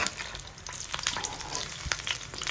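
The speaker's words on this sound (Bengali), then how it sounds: "ওই ব্যাটারটা যেটা আমি তোমাদের দেখিয়েছিলাম তার মধ্যে ডুবিয়ে নিয়ে জাস্ট তেলের মধ্যে ছেড়ে দেব ব্যাস আর দেখো কি সুন্দর ভাজাটা হচ্ছে" Coriander leaf fritters dipped in batter sizzle in hot oil, a dense, even crackling fry heard close up with occasional louder pops and light stirring, and no voices.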